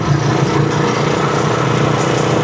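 A small engine idles steadily after its carburetor was cleaned with the fuel mixture left unadjusted, giving a loud, even drone that runs the whole time with no talk over it.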